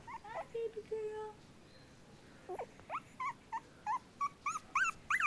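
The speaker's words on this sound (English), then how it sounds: "What's up with the howling, little man, huh?" Young puppy about two and a half weeks old howling and whimpering in a series of high, rising and falling cries, close by and fairly loud, with someone speaking softly in between.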